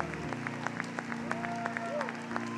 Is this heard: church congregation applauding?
yes